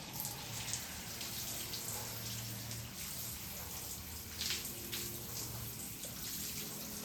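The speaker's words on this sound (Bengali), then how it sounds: "এবারে একটু জল দিয়ে পরিষ্কার করে নেবেন" Water running from a tap while hair is rinsed at home after a homemade hair-growth treatment, a steady close splashing flow with a few brief louder spatters and no talk.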